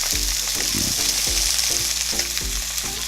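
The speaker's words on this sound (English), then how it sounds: "Hear that sizzle, guys?" Slices of Spam fry in a pan with a steady, close sizzle and crackle, spatters popping in a loose rhythm over the constant hiss.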